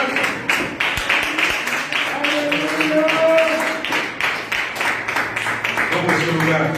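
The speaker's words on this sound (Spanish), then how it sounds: "Un fuerte aplauso al Señor antes de sentarnos." A church congregation breaks into sustained applause, a dense wash of clapping with scattered sharper claps, while voices call out over it.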